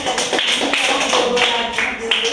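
Classroom applause from students in a lesson, brisk uneven clapping of a small group, close and fairly loud, with short bursts and voices mixed in.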